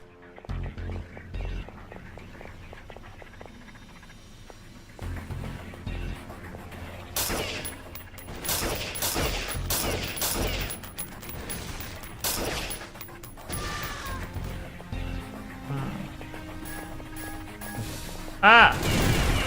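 Video game gunfire while shooting at enemies: bursts of rapid shots and mechanical clatter, sparse at first and then dense through the middle, with a sharp loud hit near the end and a voice heard faintly at times.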